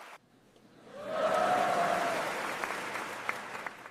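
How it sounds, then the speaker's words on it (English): A room full of people breaks into applause after a brief quiet moment, the clapping swelling quickly to a loud, dense peak and then slowly thinning, with a few sharper individual claps near the end. "The room applauded"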